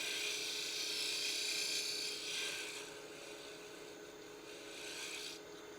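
A wood lathe spins a threaded acorn box while a tool or abrasive rasps steadily against the turning wood, close and continuous, with slight swells in intensity.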